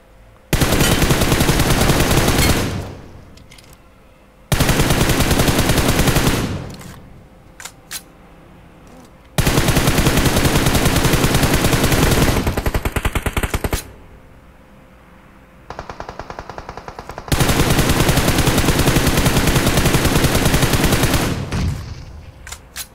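Gunfire in the battle royale game PUBG Mobile: loud, dense automatic bursts come in several long sustained volleys separated by short pauses, with a few sharper single shots in between.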